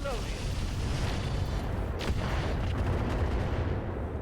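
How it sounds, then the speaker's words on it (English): A boom from Deadfire long-range missiles striking a target in the RogueTech mech battle game, a dull burst about two seconds in over a dense, steady rumble of game noise and music. "there was that explosion"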